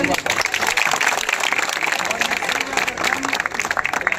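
Dense, continuous applause from a crowd at an outdoor election rally for a ward meeting, steady and loud throughout with voices mixed in underneath.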